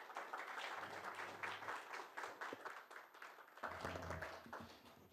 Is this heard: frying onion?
no